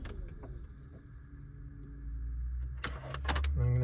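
An Audi A4 B8 2.0T TFSI idles with a low, steady hum inside the car; a few sharp clicks of the key near the end mark the engine being switched off.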